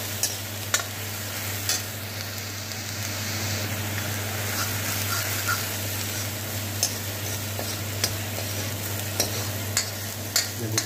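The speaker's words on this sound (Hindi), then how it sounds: "फिर जो हमने तैयार किया था प्याज और हरी मिर्च का, वो डाल के थोड़ा सा पकाओ।" Onion and green chili sizzling steadily in a pan for a Marwari stuffed-eggplant curry, with a constant frying hiss under a low hum and scattered clicks of a spoon stirring, no voices.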